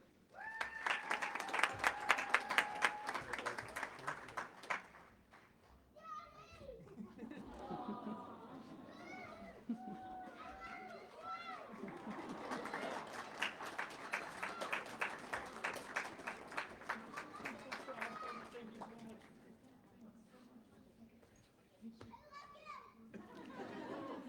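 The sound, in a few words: family member cheering and applause at a hooding ceremony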